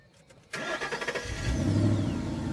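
A car with no loud exhaust pipes cranks with rapid starter clatter, then catches and settles into a smooth, fairly loud running engine at close range, with no speech.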